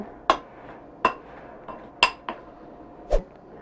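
Apple crisp mixture smashed and blended in a bowl, heard as a few sharp, sparse clinks of a utensil striking the bowl about once a second, fairly quiet in a still room.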